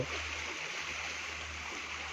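The Sutlej river in flood near Sri Anandpur Sahib rushes past as a steady, broadband roar of flowing water, fairly faint and continuous, with no voices.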